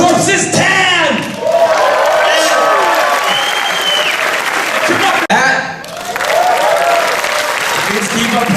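Theater audience applauding and cheering at a midnight film screening Q&A, sustained clapping with shouts and whoops, and voices talking over the noise.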